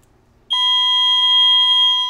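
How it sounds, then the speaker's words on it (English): After a brief quiet moment, a loud, steady security system panic alarm tone from a Honeywell Lyric system starts abruptly and holds continuously, piercing and close. "That's our audible panic alarm."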